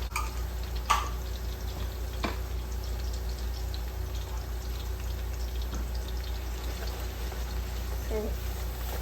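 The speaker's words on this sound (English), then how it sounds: "So fry the tomato paste." Tomato paste frying in a pot for Nigerian jollof rice, a steady soft sizzle with a few clinks and stirring scrapes, fairly close and continuous.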